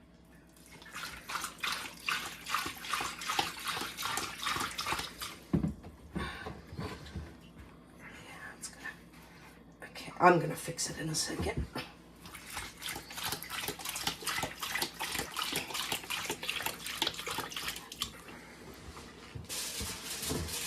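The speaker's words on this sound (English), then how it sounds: "I want you to fill up the bowl with water." Tap water runs into a kitchen bowl in steady, rushing bursts with pauses and clatter between pours, close and moderately loud, while a person briefly speaks.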